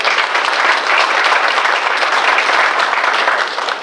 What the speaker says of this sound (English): Let's give these men and women a great round of applause as well for their work.